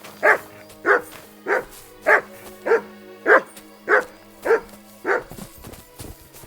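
A dog in the Kingdom Come Deliverance II video game barks about nine times at an even, steady pace, loud and close, then the barking stops and faint background sound follows.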